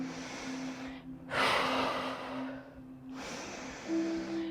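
Deep, slow breaths drawn in and pushed out during a held Pilates pose, three long airy exhales in a row with a soft hum between them.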